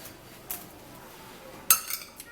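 Blended banana mixture goes from a blender into a bowl with two or three brief clinks of a utensil against the container, in an otherwise quiet room.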